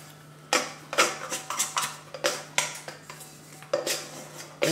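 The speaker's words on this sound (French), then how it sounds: "On va décoller du crochet." Brioche dough pulled from a stand mixer's dough hook: a close series of irregular metallic scrapes and clanks against the bowl, about a dozen quick hits over a low steady hum, no talking.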